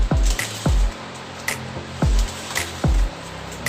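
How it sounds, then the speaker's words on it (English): Ice cubes drop into a tall glass in four or five separate clinks and thuds, each a sharp knock with a short ringing tail, evenly spaced and close up, with no talking. "In a nice tall glass, I'm going to add some ice cubes."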